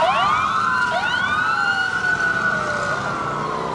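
Police car sirens wailing at the Vancouver Canada Day parade, several overlapping rising and falling sweeps, fairly loud over a steady crowd wash with no talk.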